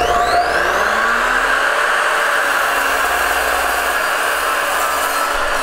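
An Evolution R255SMS+ miter saw slices through a poplar board, a loud continuous whine of the blade biting wood that holds steady for several seconds, close up with no voices.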